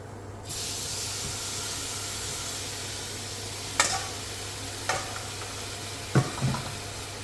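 Garlic hissing and frying in a pan as it goes in for a shrimp, mango and coconut dish, a steady close sizzle with a low hum beneath and a few sharp stirring clatters near the end.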